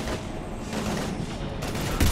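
Rapid bursts of gunfire crackle through a combat scene in Mass Effect 3 Legendary Edition, overlapping shots against steady background game noise.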